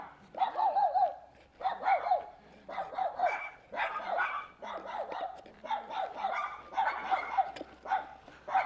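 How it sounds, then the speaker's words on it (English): A dog in the Osaka countryside barks at people in short, repeated bursts of yaps and bow-wows, close by and fairly loud, with brief pauses between volleys. "もう人見たら吠えてばっかり"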